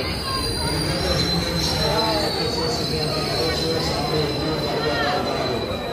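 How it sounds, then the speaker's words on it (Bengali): A Lalgola Passenger train pulls into a station on the Sealdah division of Eastern Railway, its wheels squealing loudly and continuously over a heavy rolling rumble close by. "বহরমপুর ওখান থেকে একটা ট্রেন আসলো"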